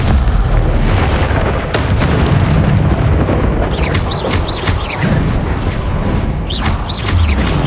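Confringo fire-blast spell explosions in the video game Hogwarts Legacy: loud, dense rumbling booms with sharp bursts and crackling debris, running continuously through the whole stretch.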